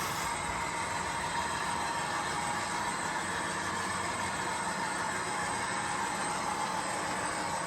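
Steady rolling rumble of a small model train running continuously up a helix grade, with a constant hum and faint wheel clatter and no pauses or voices.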